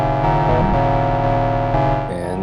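TAL Noisemaker triple-oscillator synth plugin playing a simple sustained couple of notes, its filter cutoff gently opening so the bright, buzzy tone grows slightly fuller, loud and alone with no voices.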